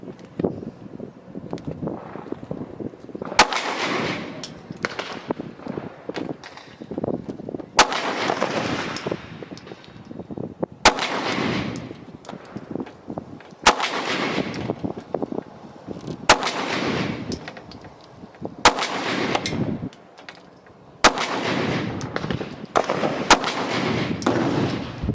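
Sharp, loud pistol shots from a Smith & Wesson M&P Shield Plus fired at about 12 yards, coming in spaced bursts of several rapid reports with short pauses between strings, outdoors with light wind noise.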